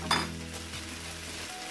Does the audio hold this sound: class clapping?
no